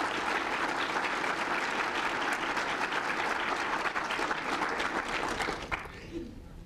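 Dense, sustained audience applause for Suzanne Garza at the Houston Transformation Conference welcome session fills the room steadily, then thins and fades out near the end.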